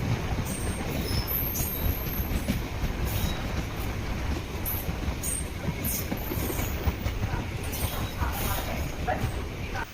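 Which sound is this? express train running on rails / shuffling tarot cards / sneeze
express train running on rails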